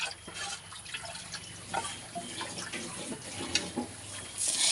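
Appam batter is stirred in water and poured, producing close sloshing, dripping and splashing liquid sounds in uneven bursts, with no talking.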